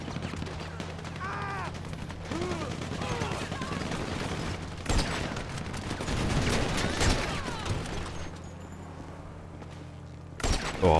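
Rapid bursts of heavy machine gun fire with booming impacts in GTA V, loud and continuous, over a steady game background hum and occasional faint voices.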